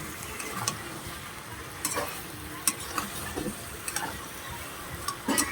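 Fish curry of saiping fish, a spicy jhol, sizzling steadily in a pan while being stirred, with scattered scraping clicks from the spoon against the metal and no talking.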